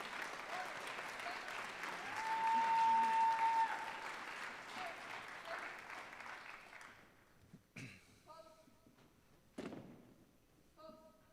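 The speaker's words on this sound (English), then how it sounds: "Please join me in a round of applause for our very own Marietta High School veterans." Sustained applause from an audience at a high school Veterans Day program honoring Marietta High School veterans: dense, steady clapping for several seconds that fades out, followed by a few scattered thumps and knocks.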